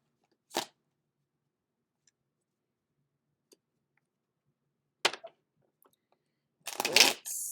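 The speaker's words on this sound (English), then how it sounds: "I did not mean for that shuffle to be so loud." A Rider-Waite Tarot deck is shuffled in a few quick riffling bursts, loud and close, separated by quiet pauses, with small taps and clicks in between.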